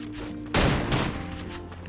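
Shotgun fire in the battle-royale video game Free Fire, heard as one loud, sharp blast followed by a decaying roar. It stands out over a steady low game hum, with no one talking.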